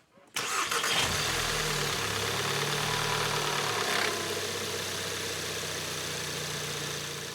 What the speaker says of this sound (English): start the engine, let it run for about 40 seconds or so